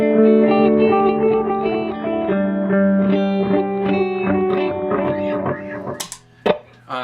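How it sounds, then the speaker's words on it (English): Electric guitar played through a Panther delay pedal, sustained chords and picked notes with repeating echoes and reverb trails, ending in a few sharp scratchy strums. "I would use that especially if I want to use my Panther delay."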